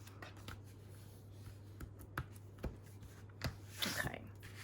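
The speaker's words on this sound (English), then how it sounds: "I'm just trimming the extra bits off" Paper being trimmed off a scrapbook page, with a series of faint, quiet snips and rustles at an irregular pace and a soft hum underneath.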